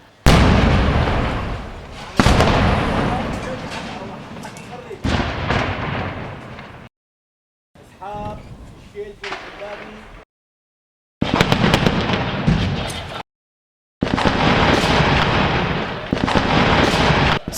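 Mortar shells and artillery fire explode nearby during combat in Syria's Jobar district, loud broadband bursts in several blocks separated by brief silences, with a faint voice in one quieter stretch.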